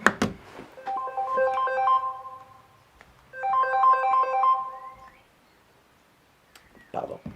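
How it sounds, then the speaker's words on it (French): A mobile phone ringtone plays in two bursts of bright repeating electronic melody during a talk, loud and close, with a pause between them, and a voice speaks briefly before and after. "quand on oublie de mettre en arrêt son téléphone, voilà ce qui se passe."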